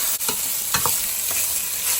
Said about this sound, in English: We're going to add our rice, cold cooked rice. We're going to stir this up.